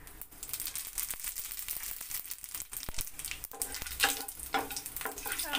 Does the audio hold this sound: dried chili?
yes